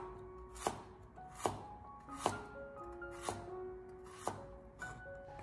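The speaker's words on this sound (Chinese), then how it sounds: "准备1大块的生姜，削去外皮以后，再将它改刀切成薄片" Knife chopping peeled fresh ginger into thin slices on a board, with about six crisp, evenly spaced cuts sounding close and alone, no talking.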